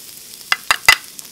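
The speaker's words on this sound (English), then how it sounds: "I'm going to drop the garlic" Garlic dropped into hot oil in a stir-fry pan over high heat, giving three quick sharp sizzling bursts up close, with no talk.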